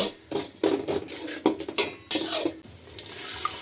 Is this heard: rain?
no